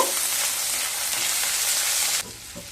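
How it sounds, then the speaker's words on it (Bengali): Carrots frying in a pan with oil and spices for vermicelli upma, a steady close hiss of sizzling that drops abruptly to a quieter crackle near the end. "প্রথমে কিছুটা গাজর দিয়ে দেব গাজরগুলোকে হালকা ভেজে নেব"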